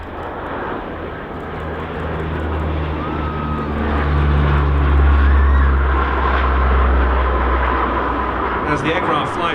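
A P-3 Orion aircraft makes a slow pass at an airshow with its undercarriage down, a loud, steady, low engine drone that swells and holds close overhead, heard alone before a sharper burst of noise at the end.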